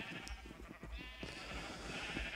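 Sheep bleating in Minecraft, a few short, nasal bleats over faint background game noise, fairly close, with no talk.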